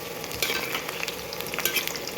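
Khurma dough frying in refined oil that is only moderately hot: a steady, close, crackling sizzle with dense bubbling hiss and scattered sharper pops throughout, no voices.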